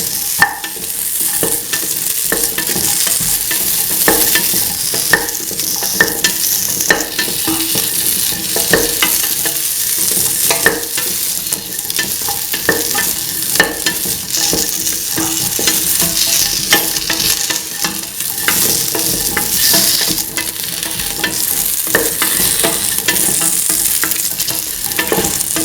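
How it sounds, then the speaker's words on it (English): Potato pieces are stirred and mixed in a frying pan. A loud, continuous sizzle runs throughout, broken by repeated scraping and clattering strokes of the utensil. "Mix potato pieces"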